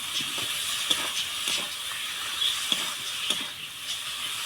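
Fried potatoes hitting hot masala and oil, a steady soft sizzle and hiss with faint scattered crackles and light stirring scrapes, close and alone without talk.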